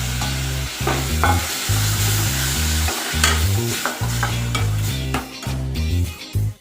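Sautéed onions and tomato stirred in a hot pan, loud sizzling with repeated rhythmic spatula scrapes and knocks against the pan, close and continuous, no talk.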